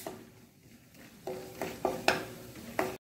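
Poha chivda mixture frying in a pan with little oil, soft sizzling under several scraping stirs of a utensil against the pan, a few louder sweeps close by before an abrupt stop.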